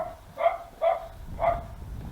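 A dog barks three times in quick succession, fairly close and loud, over a low background rumble with no talking.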